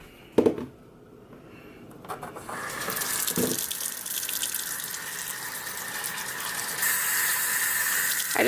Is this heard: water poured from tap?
yes